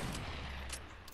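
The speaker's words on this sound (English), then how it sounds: "Somebody just hit me with a hunting rifle." A hunting rifle gunshot in a multiplayer video game, heard as a quiet, muffled burst of gunfire with a brief sharp crack, distant and low in level with no talking over it.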